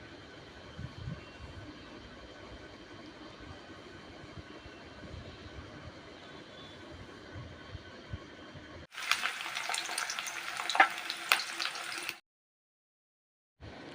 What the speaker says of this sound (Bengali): এবার আমি এই মাছের তেলেই আলুগুলো কিছুক্ষণ ভাজা করে তুলে নেব।